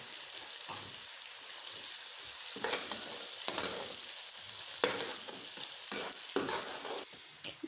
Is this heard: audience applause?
no